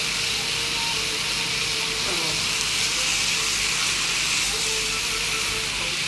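Onions going into a hot frying pan for chicken shawarma, a steady loud sizzle and hiss that continues evenly without pause.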